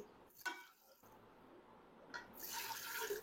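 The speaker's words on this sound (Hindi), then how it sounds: "अब इसमें हम साथ ही पानी डाल देंगे।" Water splashes and pours into a cooking pot of beef and okra curry, faint at first and then swelling into a steady, fuller rush of liquid.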